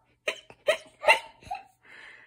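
A person's voice imitates a skeleton's hiccups for a Halloween picture book, making three sharp, close vocal hic bursts in quick succession, followed by a shorter squeak and a faint trailing breathy sound.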